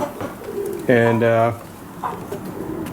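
A pigeon gives a short, throaty coo that stands out close and clear for about half a second, in an indoor zoo enclosure, with a voice briefly heard around it.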